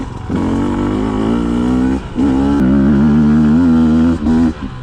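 A 2020 Beta 200 RR two-stroke dirt bike climbs a trail hill in second gear, its engine droning loud and close with a rising buzzing pitch and two short breaks in throttle.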